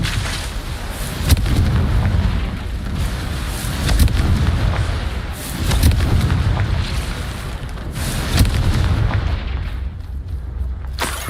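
Confringo blasting curse explosions in the Hogwarts Legacy video game, a series of deep booming blasts recurring every couple of seconds with rumbling tails, loud and close, fading near the end.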